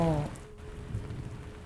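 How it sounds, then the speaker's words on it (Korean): Steady rain falls on a surface as a soft, continuous hiss with scattered drops. A brief tonal note sounds at the start, and the rain continues alone afterward. "비가 오고 있기 때문이에요."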